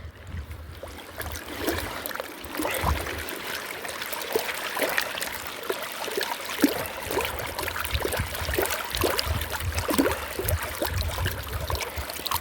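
Gold pan agitated in a stream, big rocks and sand sloshing and washing, a steady rushing churn of water with gritty scraping throughout, close and fairly loud.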